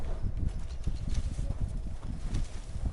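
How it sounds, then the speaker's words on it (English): Horse hooves clip-clop in a steady, rapid rhythm in Red Dead Redemption 2, a dense and fairly loud continuous trot with a low rumble throughout. "Cavalo."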